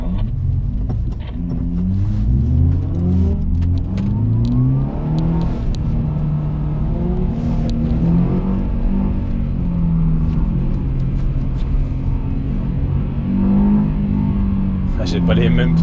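A Subaru Impreza 2.0R accelerates on snow with a loud, rumbling engine whose pitch climbs and falls through the gears across a sustained run, while someone talks over it.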